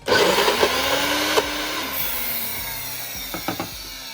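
An electric blender whirs steadily, grinding strained cooked ingredients into a paste at a fire-pit cooking camp, loud and close for about a second and a half before the motor tone drops and wavers, with a few knocks near the end.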